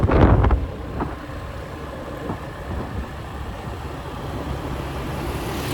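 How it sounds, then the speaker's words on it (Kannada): Strong wind buffets the microphone in a continuous low roar over a running motorbike engine while riding in Krabi, Thailand. "ಗಾಳಿ ಜೋರಾಗಿದೆ"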